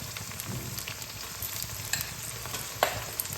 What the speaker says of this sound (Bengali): এবার আমি দিয়ে দেবো এর মধ্যে এক চামচ আদা কাঁচা লঙ্কা আর পেঁয়াজ বাটা